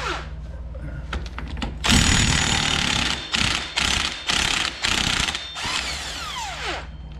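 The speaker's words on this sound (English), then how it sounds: "It takes a 27 millimeter and we're gonna put it on our impact drive." Impact driver spinning off a 27 mm front axle nut on a Kawasaki Brute Force 750 ATV, a loud, close, buzzing hammering rattle in several bursts of a second or so, separated by short pauses, with a faint whir after the last one.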